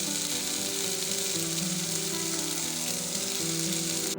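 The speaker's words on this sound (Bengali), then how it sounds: "পেঁয়াজ এগুলো আমরা পেস্ট করে নিয়েছি আমরা কষিয়ে নিচ্ছি" Onion, garlic and chili paste sautéing in a hot pan, a loud continuous sizzle with faint stirring underneath, steady throughout with no voices.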